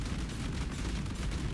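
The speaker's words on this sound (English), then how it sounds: "explosive trap gains explosions with levels" Explosive traps detonating in the Path of Exile video game, a dense, continuous rumble of overlapping blasts and booms at steady loudness, with no talking.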